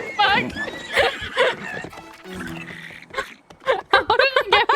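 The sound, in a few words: horse neighing in video game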